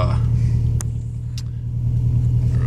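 A car engine idles after a cold start, a loud, close, steady low rumble with an even pulsing beat and two brief clicks.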